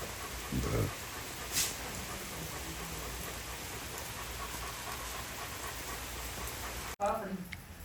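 Steady, even hiss of rain falling, with a couple of brief thumps near the start and a short disturbance near the end.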